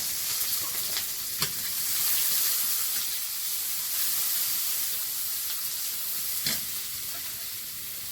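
Chopped onion and grated ginger sizzle in hot oil with black cumin seeds in a pan, a steady close frying hiss with brief stir clatters, no voices.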